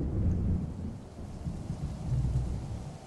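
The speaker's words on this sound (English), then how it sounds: "Storm's brewing." A video game thunderstorm rumbles with low rolling thunder over steady rain, the booms swelling and fading across the whole stretch with no voices.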